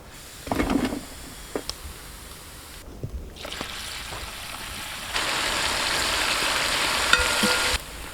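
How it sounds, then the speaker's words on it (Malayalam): Soft sizzling of giant trevally pieces frying in hot oil, with a few sharp utensil clinks early on, then the sizzle swells louder and steadier partway through. "അപ്പോൾ നമ്മുടെ തിളച്ച എണ്ണയ്ക്കകത്ത് നിന്ന് അടുത്ത ബാച്ച് മീൻ കഷ്ണങ്ങൾ കൂടെ നമ്മൾ എടുക്കുക കേട്ടോ."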